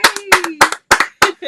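A few people clap in quick uneven bursts of applause, close and loud, in a short clip with no voices.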